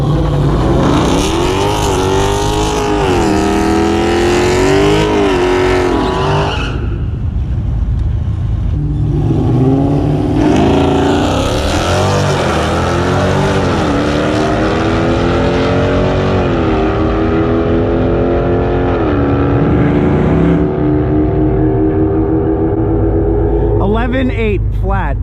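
Two Dodge Challenger 392 Scat Pack V8 cars race, their engines rising and falling through loud, sweeping revs and gear changes with a short lull in the middle, while someone talks over them.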